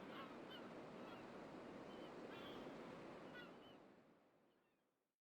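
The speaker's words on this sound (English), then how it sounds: "The seagull noises in the background are distracting for some reason." Seagulls calling over steady surf in Xenoblade Chronicles, faint honking cries above a broad wash of waves that fades out near the end.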